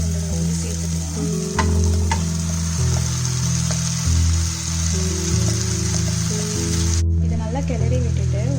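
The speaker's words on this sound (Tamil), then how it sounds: "இதை நல்லா கிளறி விட்டுட்டு ஒரு 10 நிமிஷம் மூடி சமைச்சிடலாம்" Marinated chicken pieces fry with softened tomato and chilli in a kadai for dum biryani, stirred over a steady loud sizzle, with sustained musical tones running underneath throughout.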